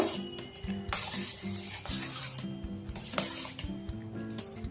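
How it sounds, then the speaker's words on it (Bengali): Apple pieces being mixed in a pan, with quick repeated scraping and clinking stirring strokes over a faint sizzle, close and fairly quiet. "খুব ভালো করে মিশিয়ে নেব।"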